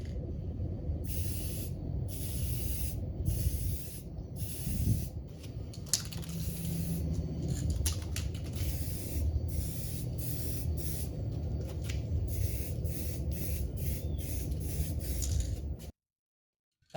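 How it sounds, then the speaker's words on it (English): Aerosol can spraying Marshall gloss black base coat onto Honda engine mounts, a steady close hiss with a few brief breaks, running almost continuously before cutting off near the end. "Now for the gloss black base coat. I'm gonna be using this gloss black from Marshall as well."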